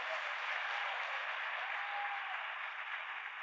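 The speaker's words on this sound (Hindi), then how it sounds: "एक बार सभी मार्क्यूज इनके लिए जोरदार तालियां बजाएं" An audience claps together in a steady, continuous wash of applause that holds at an even level from start to finish, heard at a moderate distance without any clear voices.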